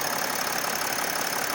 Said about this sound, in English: The good old 642 engine purring away nicely.